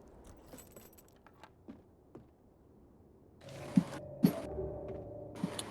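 Keys jangle against a door lock as it is unlocked: a quiet stretch with faint clicks, then a louder burst of close metallic rattling and a few sharp clinks over the last two seconds, with no talking.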